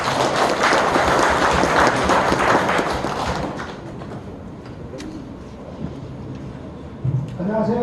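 A crowd at a political party gathering in Jeju claps loudly and densely for about three seconds, then the applause thins to scattered claps and dies away, with faint voices and a brief bump near the end.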